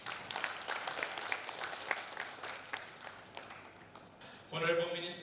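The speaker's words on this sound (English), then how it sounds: "We give them a hand clap, please." Faint, scattered applause from an audience at a network strategy launch in Uganda rolls on for a few seconds, then a voice starts speaking over the tail of the clapping.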